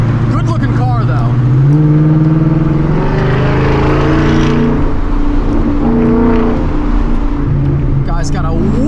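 LS-platform V8 car driving by on the road, a deep engine rumble that swells and fades as it passes, heard from inside another car with people talking over it.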